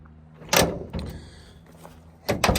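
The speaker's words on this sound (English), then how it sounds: "There's the door for the bed toolbox." A bed toolbox door on an old abandoned Ford pickup truck is worked by hand, giving a sharp clunk, a lighter knock, then a double clatter near the end, each loud and close with quiet in between.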